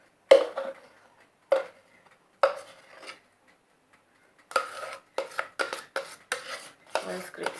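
Sponge cake batter scraped from the sides of a mixing bowl into a cake pan, a few separate scraping strokes followed by a quicker run of short rubbing scrapes, close and clear with no talking.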